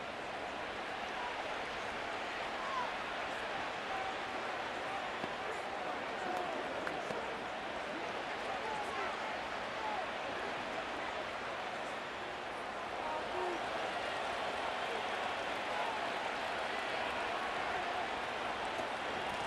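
Steady roar of a large stadium crowd in the Madden 25 video game, Cleveland Browns vs Houston Texans, a continuous wash of distant cheering and murmur with no distinct peaks, holding evenly throughout.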